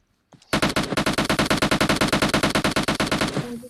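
Sustained automatic gunfire in the mobile battle-royale game PUBG Mobile, a rapid, evenly spaced burst of loud, close shots lasting about three seconds with no talking.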